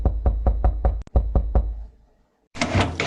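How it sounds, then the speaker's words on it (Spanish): Sharp knocks on a household door, about seven loud, evenly spaced raps close by, followed by a brief silence and then a burst of broadband noise. "Ese es el sonido de cómo se golpea la puerta"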